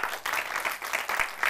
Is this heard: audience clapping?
yes